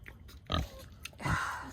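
Pig grunting while eating on a farm, two or three close, low snorting grunts with short gaps between them.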